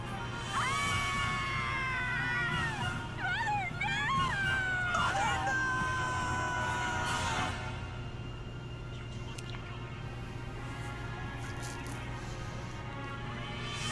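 During a Nintendo E3 2017 game trailer, a long, wavering scream rises and falls over a steady low hum, loud at first and then fading away.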